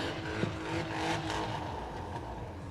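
A drift car's engine revs steadily at an outdoor drift pit, a loud, sustained mechanical drone with rising and falling pitch and no voices over it.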